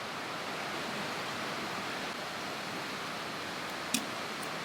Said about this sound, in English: So it's raining pretty bad right now